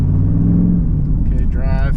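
Third-generation Camaro with a failing transmission losing gears, giving a steady loud engine drone from inside the car that shifts pitch toward the end, with a voice talking over it.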